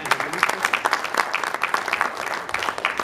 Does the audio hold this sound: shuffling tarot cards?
no